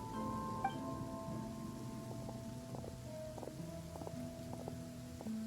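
Soft rainfall in the game Masquerade of the Guilty, a faint, even patter heard under gentle sustained musical tones.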